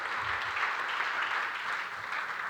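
A church congregation applauds during a sermon, a soft, fairly distant ripple of many hands clapping that stays steady for a couple of seconds.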